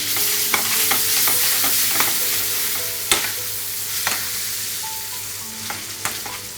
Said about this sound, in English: I'm just going to let it cook for 2 minutes, just until the tomato has gone soft